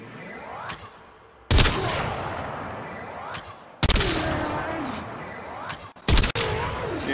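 Heavy Lanka rifle shots from Warframe, three or four loud, sharp cracks spaced a couple of seconds apart, each followed by a ringing, whirring tail.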